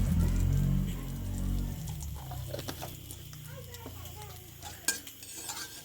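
A spoon stirs mustard oil with asafoetida in a pan, light scraping and clinks over a faint sizzle, with a louder low rumble at the start and a sharp metallic knock near the end.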